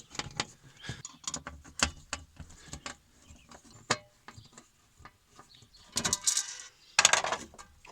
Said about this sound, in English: we're going to take out these 3 Phillips screws